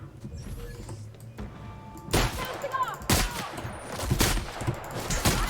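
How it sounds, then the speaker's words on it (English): Shotgun fire in The Outer Worlds, several sharp loud blasts in irregular succession after a quieter start, with faint background game noise. "Shotgun."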